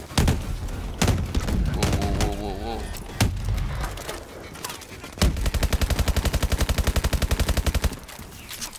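Machine gun fire in the Call of Duty Advanced Warfare video game: scattered single shots and thuds, then a sustained rapid burst of evenly spaced rounds, loud and close, with game noise around it.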